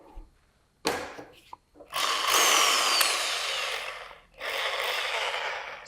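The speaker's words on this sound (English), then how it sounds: "So we take a screw and we do a screw driving" A corded Bosch GSB 10 RE 500-watt electric drill drives a screw in short whirring bursts: a quick trigger pull and a few clicks, then two longer runs with a rising motor whine, close and loud.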